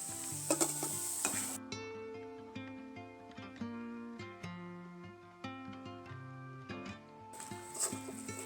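Gulab jamun fry in hot oil with a soft, continuous bubbling hiss, partly masked by melodic background music playing throughout.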